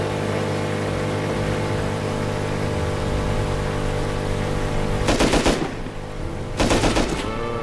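Automatic gunfire in the survival game Rust during the cargo ship event, with two sharp rapid bursts near the end over a steady engine-like background hum.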